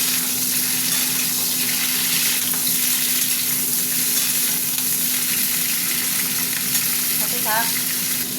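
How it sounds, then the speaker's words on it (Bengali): Mixed vegetables for shukto fry in a pan after a dried red chilli tempering, a dense, even sizzle running steadily and close throughout, with a faint hum underneath and a brief chirp near the end. "সবজিটাকে ভাজা ভাজা করবো।"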